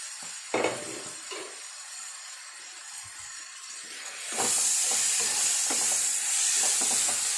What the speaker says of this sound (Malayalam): ചിക്കൻ ഒന്ന് ചൂടൊക്കെ വയ്ക്കാം